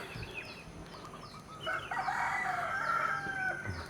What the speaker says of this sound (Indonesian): ada suara ayam